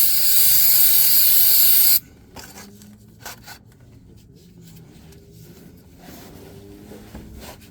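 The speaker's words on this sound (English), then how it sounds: "Wow, that brake cleaner's strong." A steady, loud aerosol hiss of brake cleaner sprayed onto an oozing transmission pan gasket of a 2011 Nissan Frontier lasts about two seconds, then stops, leaving quiet shop noise and faint clinks.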